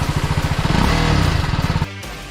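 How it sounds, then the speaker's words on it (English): A TVS Apache RR 310 motorcycle engine (2020, BS6) pulses with a rapid, throaty stock exhaust beat, rising briefly in revs before settling back to a lower idle. "The exhaust on this bike does not do justice"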